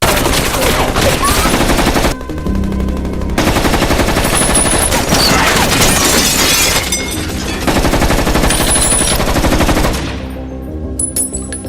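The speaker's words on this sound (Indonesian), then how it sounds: "kendaraan yang ditumpangi Jonas dihujani tembakan oleh robot tersebut, hingga akhirnya meledak" Loud rapid machine-gun fire from a robot in an action film, long bursts of automatic shots riddling a vehicle, with brief pauses between volleys, glassy shattering and a sudden drop-off near the end.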